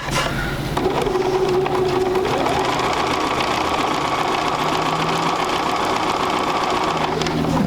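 A sewing machine stitches fabric for a quilt sampler block, a loud, close, continuous rapid mechanical whir that rises in speed partway through and runs unbroken without talk.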